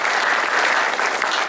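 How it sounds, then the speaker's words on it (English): A room full of guests at a university signing ceremony breaks into a steady round of applause, dense and even for the whole short stretch with no voices rising above it. "let's give him a round of applause"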